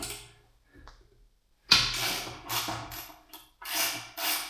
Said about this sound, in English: to get the fender off, we're going to be using an 11 mil socket